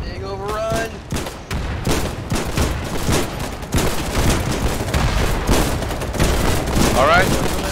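Dense gunfire in the war game Foxhole during a beach landing assault, a continuous loud barrage of overlapping rifle and machine-gun shots with distant booms, while players talk over the fighting.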